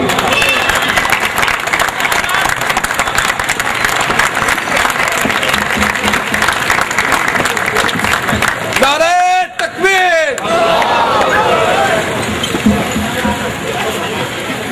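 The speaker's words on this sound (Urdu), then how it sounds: "آپ سب کی بھرپور تالیوں میں" Vigorous audience applause welcoming a speaker at a Kashmir solidarity event, loud and close for the whole stretch, with a brief burst of sliding, wavering tones cutting through about two-thirds of the way in.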